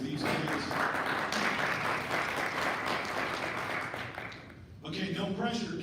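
An audience applauds for the Norman North Jazz Choir at a Rotary gathering, with loud, dense clapping that eases briefly near the end and then picks up again. Voices can be heard under the clapping.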